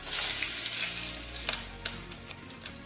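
Potatoes hit a wok of hot oil tempered with dried red chillies, bay leaf and whole cumin, a bright sizzle that fades slightly, broken by a few sharp pops and stirring clicks.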